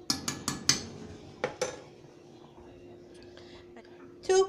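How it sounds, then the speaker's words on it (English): Boiled yam strained in a pot, with sharp clanks and knocks of the pot and utensils, a quick cluster at the start, two more knocks mid-way, then a quiet stretch and a final louder rattle. "So I'm just going to strain it."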